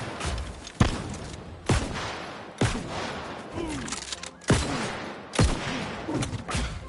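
Gunfire in the New World Aeternum video game, heard as single sharp shots spaced roughly a second apart, loud and close, with low voices and game sounds between them.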